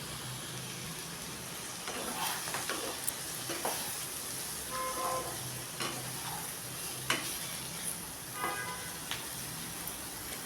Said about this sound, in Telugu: మీడియం ఫ్లేమ్లోనే కలుపుకుంటూ ఉండాలి చిక్కుడుకాయ.